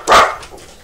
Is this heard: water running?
no